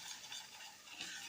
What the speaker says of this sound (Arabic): ونقلب تقليبه حلوه